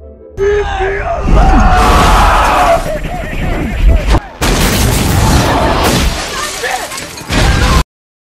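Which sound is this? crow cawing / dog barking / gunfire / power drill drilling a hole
gunfire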